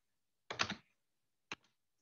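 Typing on a computer keyboard while running a command prompt: a short burst of several rapid key clicks, then a single sharp keystroke a second later, close and isolated in otherwise quiet surroundings.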